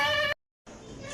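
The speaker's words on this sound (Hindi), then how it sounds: "ये मेरे पास बकरा है" A young male goat about three and a half months old, offered at a livestock market, bleats in a short harmonic call, then briefly goes silent before a second, noisier bleat follows close by.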